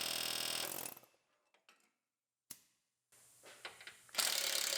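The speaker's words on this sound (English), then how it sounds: "We got a pickle fork on the end of the air hammer, and we'll separate them." An air hammer fitted with a pickle fork separates truck suspension parts: loud bursts of pneumatic hammering at the start and end, with short metallic knocks and clanks between them in a quieter gap.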